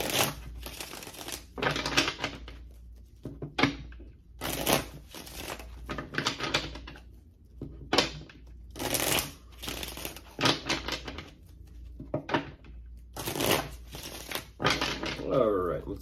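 A deck of tarot cards is shuffled by hand in repeated crisp riffling bursts separated by short pauses, close and fairly loud, with a final flutter of cards.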